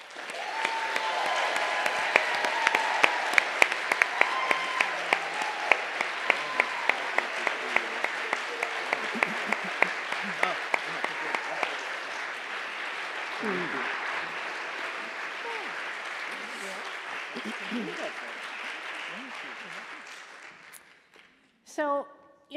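An audience at a public leadership awards ceremony applauds this year's honoree, a full, sustained wave of clapping that gradually thins and fades out, followed by brief faint stirring near the end.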